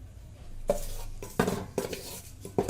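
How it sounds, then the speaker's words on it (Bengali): Metal spoon clanks and scrapes in a pan as cardamom, bay leaf, cinnamon and cloves are stirred and fried for white polao, a few sharp knocks close up with quiet gaps between. "নেড়ে চেড়ে একটু ভেজে নিব।"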